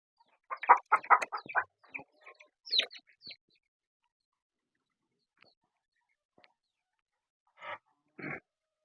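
Country chickens cluck in a quick burst of short clucks inside a shed, then fall quiet before two more soft clucks; close and fairly faint, in a quiet space.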